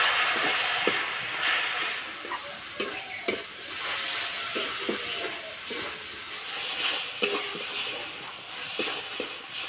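Spiced water sizzling in a pan of frying jackfruit masala, a steady broad hiss with repeated stirring scrapes and clinks throughout, close and fairly loud, no talking.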